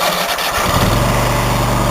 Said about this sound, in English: So first off, to start her up, advance the throttle about halfway,